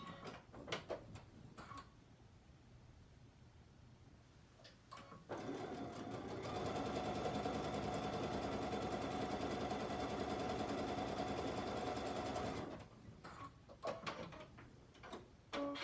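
Sewing machine stitching the seams of a half-square triangle quilt block, running steadily and loudly for about seven seconds, with short bursts and clicks of handling before and after.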